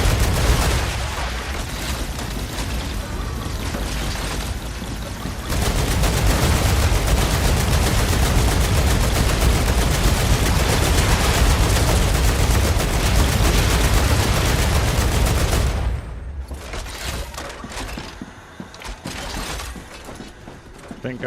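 Turrets fire in the video game Star Rupture as a dense, loud, continuous roar of gunfire and impacts that lasts most of the clip, then drops to quieter mechanical clatter near the end.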